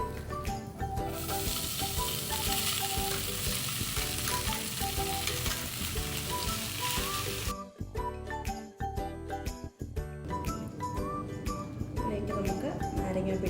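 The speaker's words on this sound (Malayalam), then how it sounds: "ഇനി നമുക്കിതിലേക്ക് നമ്മൾ വേവിച്ച് വെച്ചിരിക്കുന്ന ചോറും കൂടെ ചേർക്കാം." Cooked rice being stirred and fried in a pan for lemon rice, steady sizzling with the clink and scrape of a spoon against the pan, loud and close, then brief rhythmic tapping as the stirring continues.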